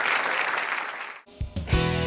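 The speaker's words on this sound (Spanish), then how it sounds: "Dale un aplauso al Señor" Congregation in a church applauding for about a second and a quarter, a dense broadband clapping wash that cuts off abruptly, followed by a voice.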